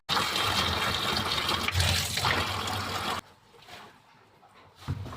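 Running water gushes steadily as mallow leaves are rinsed by hand for a rural Egyptian dish, loud and close for about three seconds before dropping to a softer trickle and splash.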